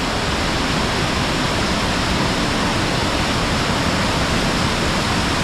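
Bhagsu Nag waterfall in Himachal, a dense, unbroken roar of rushing water, loud and close, steady throughout with no voices.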